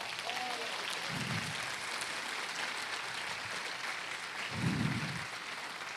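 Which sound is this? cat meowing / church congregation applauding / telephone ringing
church congregation applauding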